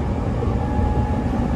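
A Musashino Line train running between Shin-Matsudo and Ichikawa-Shiohama, heard from inside as a loud, steady low rumble and roar with no distinct clatter and no voices.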